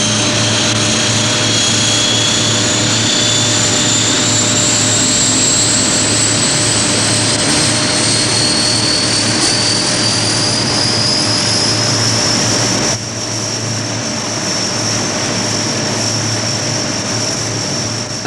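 Propeller plane engine drones loudly and steadily from inside the cabin before a 1973 five-mile parachute freefall jump, a constant roar that drops slightly in level partway through.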